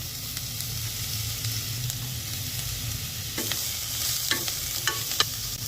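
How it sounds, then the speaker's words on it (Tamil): Shallots fry with ginger garlic paste for a fish curry, sizzling in a loud, steady hiss, with a few sharp spatula scrapes and clinks in the second half. "இஞ்சி பூண்டு வதங்கினதுமே சின்ன வெங்காயத்தை ஆட் பண்ணிடலாம்."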